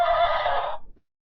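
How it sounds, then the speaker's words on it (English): A single horse whinny, loud and close, its shrill wavering call trailing off and ending in silence. "Horse."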